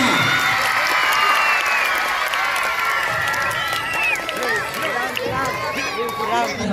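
A school audience claps loudly to welcome a teachers' drama troupe from a Kannada-medium school, with steady dense applause mixed with cheering and shouting voices throughout.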